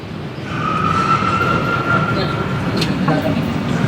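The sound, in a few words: train at Manggarai station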